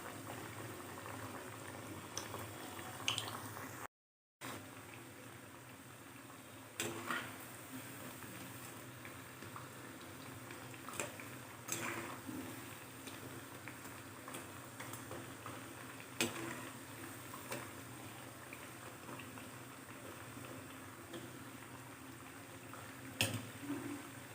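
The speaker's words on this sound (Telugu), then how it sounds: "ఇలా బ్రౌన్ కలర్లో ఫ్రై చేసుకుని ప్లేట్లో తీసుకోవాలి" Rice flour chekkalu made with fresh butter deep-fry in hot oil, giving a steady close bubbling hiss with occasional sharper pops and crackles throughout, no voices.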